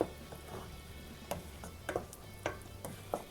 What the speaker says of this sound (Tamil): இப்போ இதோட பச்சை வாசம் போகிற வரைக்கும் இது நல்லா வதங்கணும்.